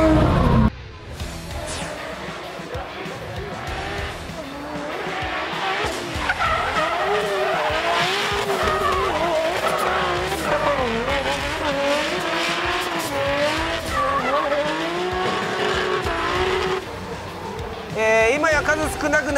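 A D1 Lights drift car with a Nissan RB six-cylinder engine roars and its tires squeal continuously and loudly nearby, with a voice talking over the noise.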